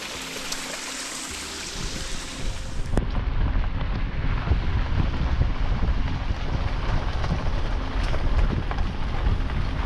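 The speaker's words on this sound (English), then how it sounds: "Cute little waterfall." A small waterfall in the Arkansas wilderness gives a steady rushing, splashing wash of water close by, continuous and fairly loud with some wind noise, no talking.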